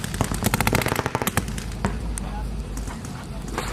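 A rapid burst of pistol shots at a Colt's firearms clinic, loud and close, followed by a few spaced single shots while an instructor talks.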